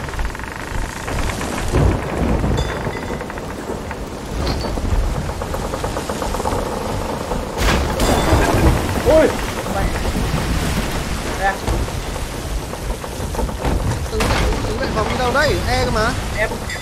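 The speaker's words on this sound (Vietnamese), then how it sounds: "Bão này là kinh lắm đấy." Rain lashes down during a thunderstorm at sea in the video game Sea of Thieves, a steady roaring downpour with rumbling thunder swells, while voices talk over it.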